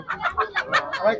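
A chicken clucks in a quick series of about eight short, nasal calls, close and fairly loud, at a Khulna poultry and pigeon market.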